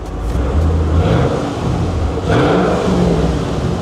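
An old Ford Mustang with an aftermarket exhaust idles with a loud, deep, steady rumble and swells slightly in revs near the middle.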